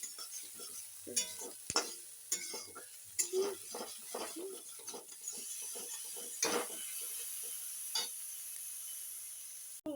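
Chopped chilli and garlic frying in a pan bring clattering scrapes and taps of a stirring utensil, followed by a faint, steady sizzle.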